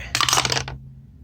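Dice roll and rattle briefly across a surface, a quick burst of clicking tumbles lasting under a second before settling, close and crisp over a faint low hum.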